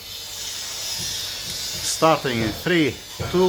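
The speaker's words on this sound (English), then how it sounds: "Let's spray the injector, right?" High-pressure fuel injector spraying, removed from the rail with the quantity control solenoid being triggered, giving a steady hiss under a voice counting down.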